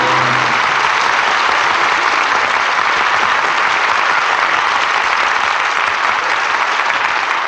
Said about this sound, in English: Well-deserved applause for an exciting performance